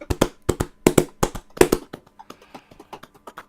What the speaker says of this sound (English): Just clap your hands enough and you can make goofy noises.